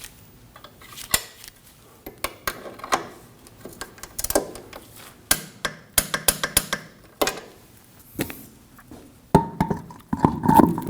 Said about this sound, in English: We can torque the 14mm bolt to 33 foot-pounds.